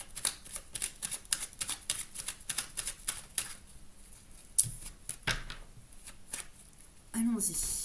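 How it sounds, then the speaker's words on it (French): Tarot cards are shuffled before a reading, producing a rapid run of crisp riffling flicks that pause and then resume, close to the microphone, while a voice speaks. "Allez, je remélange et puis on va aller faire le tirage."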